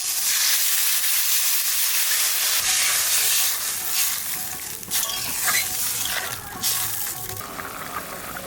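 Spice paste with tomato sizzles loudly in a pan for a mustard hilsa fish curry, a dense close hiss with stirring scrapes, the sizzle surging and bubbling unevenly as water goes in, with no voices.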